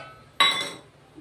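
Poppy seed paste scraped from a bowl into a pan while cooking a vegetarian ash gourd stem dish, giving one short clinking scrape of utensil against the bowl that fades over half a second.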